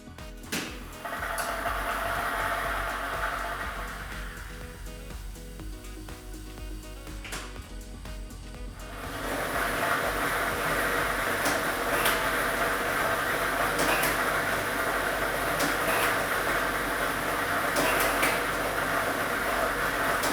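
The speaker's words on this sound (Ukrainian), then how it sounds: "ми вмикаємо лототрон" A lottery drawing machine starts up and runs with a steady mechanical whir and airy rumble, gaining a louder, denser churning of tumbling balls after about nine seconds, with faint clicks.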